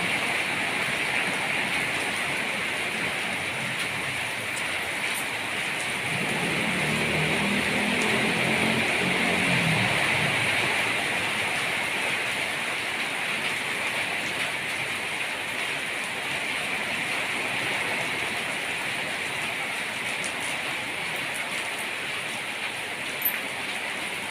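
Heavy early-morning rain pours down steadily, a dense, even hiss with no voices, holding at the same level throughout.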